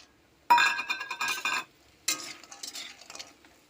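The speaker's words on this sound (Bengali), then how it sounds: "বড়িটাকে প্রথমে লাল লাল করে আমি ভেজে নেব।" Lentil bori clatter and sizzle in mustard oil in a wok: two bursts of frying hiss with scraping stirs and light clinks, close and fairly loud, with quiet pauses between and no talking.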